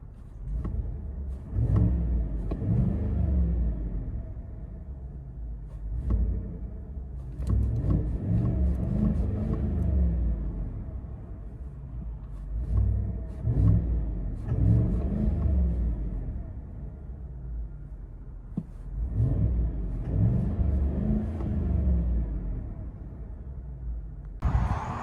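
Cabin sound of a 2021 truck with a Borla Atak LS crate muffler, a steady low exhaust drone swelling and easing in repeated waves as the engine revs, heard from inside, with no talk.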